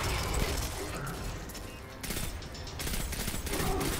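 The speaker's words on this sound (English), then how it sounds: "Oh, it's a pulse rifle." Rapid bursts from a pulse rifle in the video game Destiny 2 fire in clustered volleys, loud and close, over a busy combat soundscape.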